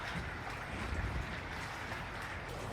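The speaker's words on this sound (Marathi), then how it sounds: "वारा मजबूत जोरात वारा चालू आहे" Strong wind blows steadily across Tehri Lake near floating huts, a continuous roar with buffeting gusts on the microphone throughout, no voices heard.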